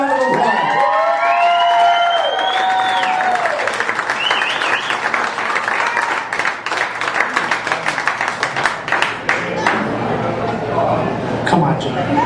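A pub crowd at a retirement roast breaks into sustained applause and cheering, dense clapping with whoops and voices rising and falling throughout.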